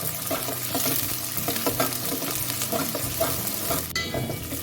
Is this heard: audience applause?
no